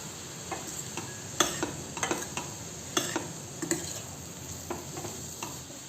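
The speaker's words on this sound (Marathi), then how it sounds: "तीन 4 मिनिट छान परतून घ्यायचं आहे।" Misal masala sautés in a pan with a steady, quiet sizzle while a spoon stirs it, giving irregular sharp scrapes and taps against the pan, close and without speech.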